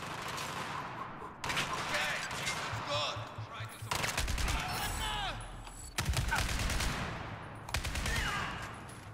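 Heavy gunfire in Battlefield 4 on the Kunlun Mountains prison map, with loud rapid bursts and volleys in several waves, mixed with other battle noise and someone talking.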